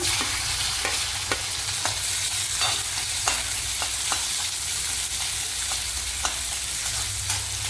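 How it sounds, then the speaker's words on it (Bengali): Raisins and dried fruits frying in a pan for sabu payesh, a continuous hiss of sizzling oil with regular scraping strokes of a stirring spoon, close and loud, with no talking. "এইভাবে আমি সব ড্রাই ফ্রুটগুলো একটুখানি ভেজে নিলাম।"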